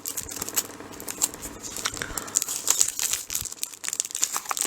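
Plastic wrapping on a package crinkles and crackles continuously as it is pulled open, with sharper crisp bursts and small tearing sounds, close and alone.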